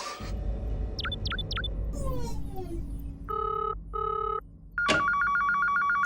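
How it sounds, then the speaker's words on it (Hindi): A telephone rings in a cartoon office scene. Repeated electronic trilling tones sound over busy background effects, ending in a sharp, sustained ring. "ऊपर से फोन की ट्रिंग।"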